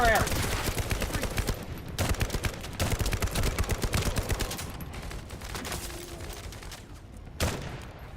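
Rapid automatic gunfire in the survival video game 7 Days to Die, dense bursts of sharp shots that run nearly continuously with a few brief pauses, loud and close.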